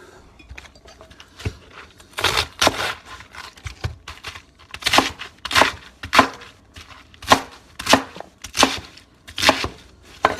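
A knife rough-chops ginger root on a board in a series of sharp, close chopping hits that come in an irregular rhythm, sparse at first and then in a steady run of about one chop per second, with no talking.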